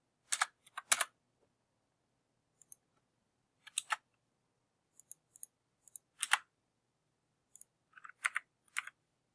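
Scattered bursts of typing on a computer keyboard come from a workstation during 3D modeling in Maya, a few sharp clicks clustered together and separated by long silent pauses.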